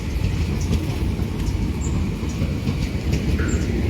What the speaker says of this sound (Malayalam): നമ്മൾ ട്രെയിൻ ഇതാ പോകുന്നു.